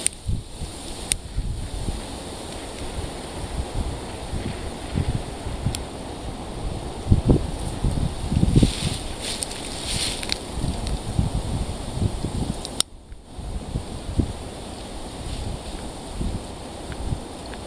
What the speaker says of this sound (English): Wind's totally kicking in too.